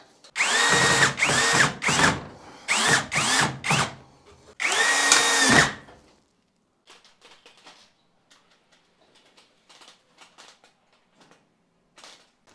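A power drill drives screws into wooden joists to build a frame for a bathroom heater, with several loud, close whirring bursts in the first six seconds, followed by faint handling clicks and quiet.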